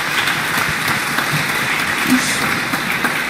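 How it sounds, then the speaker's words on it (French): Sustained audience applause at an awards ceremony for trophies honouring the best cooperation between partners, a dense, steady clapping from a crowd filling the room throughout. "Sous les applaudissements renouvelés du public."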